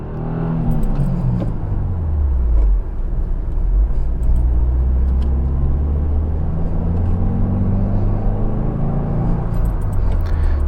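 A 2024 Subaru WRX base model accelerates on the road, heard from inside the cabin as a loud, steady engine drone that rises and falls between shifts, with no voices.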